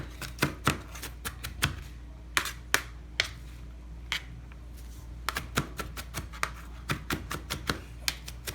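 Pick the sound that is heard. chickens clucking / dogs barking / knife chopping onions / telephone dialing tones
knife chopping onions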